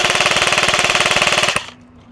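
A Dytac Sharps Bros MB47 airsoft AEG rifle running on an 11.1 battery fires a full-auto burst of about 18 rounds per second, close and loud, as an even rapid buzzing rattle for about a second and a half that then cuts off sharply.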